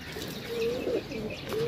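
A single pigeon coos, several soft, low rolling calls in quick succession, close and clear over a faint outdoor background.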